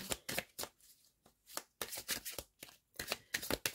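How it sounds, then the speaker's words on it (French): Oracle de miroir cards being shuffled by hand in a quiet room, a close run of crisp riffling flutters and soft slaps repeated in quick bursts with short pauses between. "On va aller chercher une carte avec l'oracle de miroir"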